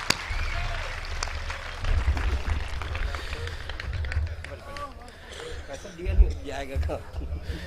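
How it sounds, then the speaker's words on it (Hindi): Audience clapping in honour of poet Gajendra Solanki at a Hindi poetry gathering, uneven bursts of applause swelling and dipping, with low rumbling and someone speaking over much of it. "जोरदार उनके सम्मान में ताली बजाए"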